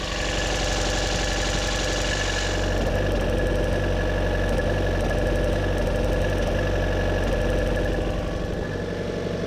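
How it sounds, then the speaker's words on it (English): A 2014 Chevy Volt Ecotec engine runs close by with a partial ignition misfire, giving a steady loud idle with an uneven, stumbling pulse and a faint higher hiss that drops away after the first couple of seconds. "Here, I've given a partial misfire."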